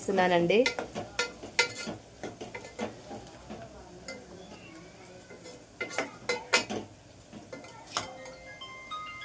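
Pieces of mutton are tipped into a pot of cooked onions and stirred, with a spoon scraping and clinking against the metal in uneven bursts, close by, over a faint sizzle and no talking.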